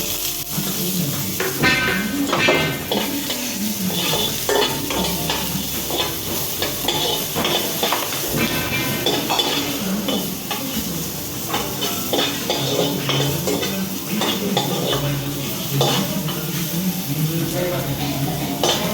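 Cumin seeds and chopped onion frying in a pan for poha, a dense close sizzle and crackle with stirring scrapes running continuously, some faint voices in the background.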